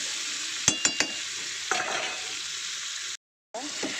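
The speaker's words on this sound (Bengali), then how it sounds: "দিয়ে এটা এবার শুধু লাল লাল করে ভাজা হবে।" Pumpkin slices frying in a pan for a home dish, with a steady close sizzle broken by several sharp stirring clacks and a brief silent gap near the end.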